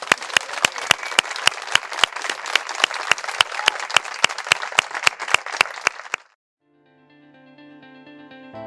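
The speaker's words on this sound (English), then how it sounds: "let's give our teams another round of applause" An audience gives a round of applause for search teams at a pairing ceremony, steady loud clapping with sharp individual claps standing out for about six seconds, then stopping abruptly before a sustained tonal sound begins.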